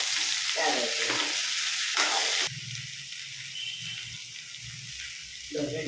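Radish, brinjal and potato sautéing in a pan, with a steady close-up sizzle and stirring scrapes, louder at the start and then settling into a quieter, continuous frying hiss.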